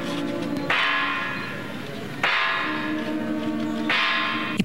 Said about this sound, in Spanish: el homenaje y tañir de campanas de la libertad